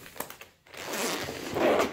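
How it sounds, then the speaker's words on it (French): Zipper being pulled open on the soft carrying case of a car jump starter, a close rasping zip that builds in loudness over about a second and a half, following a few light handling taps, with no talk. "Donc, fermeture éclair."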